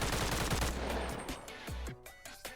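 Rapid bursts of UMP submachine gun fire in the Bonelab VR game mod, several sharp close shots in quick succession with short gaps, loud and alone.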